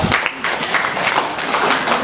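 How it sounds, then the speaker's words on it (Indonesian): Students in a classroom clap for a classmate during a lesson, a short, fairly close burst of scattered hand claps that fills the room briefly. "Oke, tepuk tangan buat Alta."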